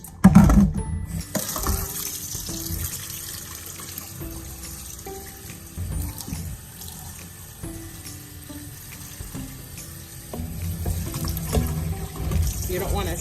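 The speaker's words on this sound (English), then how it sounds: "You don't want to soak it, you just want to rinse it, because the bulgur absorbs very quickly." Running water pours steadily over bulgur in a kitchen strainer, a continuous close hiss and splash with small rattling grains throughout.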